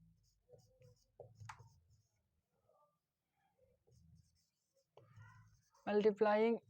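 Writing on a board during a maths lecture on differential equations, heard as faint intermittent scratchy strokes in a quiet room before a voice speaks near the end.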